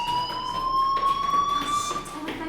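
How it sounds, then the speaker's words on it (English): A fire alarm in the Life Is Strange video game rings as a steady, shrill electronic tone, continuous and moderately loud throughout, with faint background noise. "do you hear that fire alarm? That means you should be outside"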